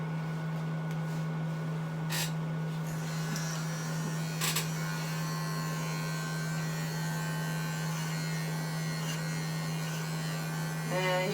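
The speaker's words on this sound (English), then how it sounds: "on Izu, I do shave down her entire nose" Electric clippers buzz steadily and close while shaving down the nose of a Shih Tzu dog during grooming, a constant hum running alone with a few brief clicks and shifts.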